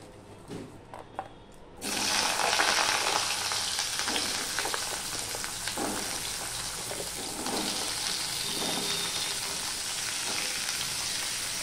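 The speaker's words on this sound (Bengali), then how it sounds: "এবার আমি পেঁপে আর আলুটা ভেজে নেব" Papaya and potato pieces frying together in hot mustard oil, a loud steady sizzle bursting in after a quiet start and crackling continuously with small pops and scrapes, no talking.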